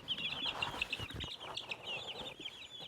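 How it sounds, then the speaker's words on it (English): A leghorn hen clucks in a rapid, twitchy series of sharp close calls, steady through the clip, over soft background rustling. "She's a hilarious, very twitchy little bird, and her name is Foghorn because she's a leghorn"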